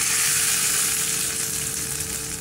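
Urad dal sizzles and fries steadily in a pan of hot oil for a tomato dal chutney, a close, loud, continuous crackle with no voices.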